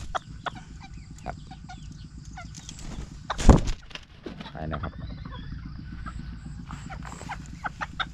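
A tame, colorful bantam hen clucks in soft repeated notes close by, with a brief loud flutter or scrape partway through and a low background hum. Someone speaks faintly at times.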